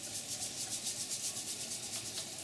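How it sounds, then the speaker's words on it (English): A vegetable scrubber rubs briskly over a raw cow tongue in a sink, giving soft, rhythmic scratchy brushing strokes, quiet and close with no talking. "We're gonna use our vegetable scrubber"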